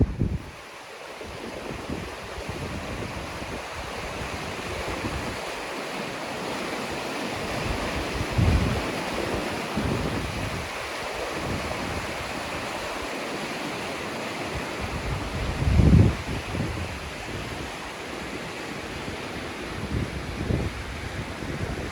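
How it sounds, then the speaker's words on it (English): A river flows past a castle in Sweden as a continuous broad rushing wash of water, fairly loud and steady, with gusts of wind buffeting the microphone. "you hear this river flowing through your property"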